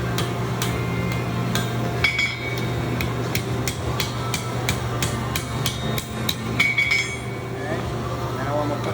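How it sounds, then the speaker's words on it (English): Hot steel is hammered around a drift to forge the eye of a strap hinge, producing a steady series of ringing metallic blows on the anvil over a low droning hum. "we'll hammer that around and try to get that as round as we possibly can"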